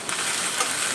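Cumin seeds, a bay leaf and dried red chillies tempered in hot oil for a home vegetable dish, a loud dense steady sizzle close up, no voices.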